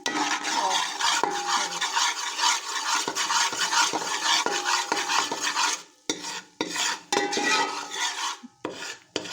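Gram flour (besan) being stirred and roasted in a pan for carrot barfi, a close, continuous rhythmic scraping of a spoon across the pan bottom with light sizzle, breaking into short separate strokes near the end.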